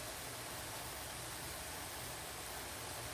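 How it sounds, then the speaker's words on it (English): Seasoned ground beef browning in a pan with garlic powder, a steady, even hiss of sizzling fat heard close and alone throughout. "We'll just listen to it sizzle for a moment."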